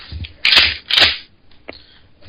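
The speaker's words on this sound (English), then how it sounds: "This is the sound of me loading a shotgun." Shells being loaded into a Mossberg 500 pump-action shotgun: two close, crisp metallic clacks in quick succession, then a small tick, in a quiet room.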